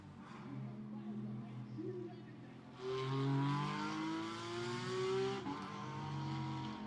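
BMW GT4 race car accelerating along the track at Misano during qualifying, a rising engine note that climbs through the gears and grows louder midway, with a commentator talking over it throughout.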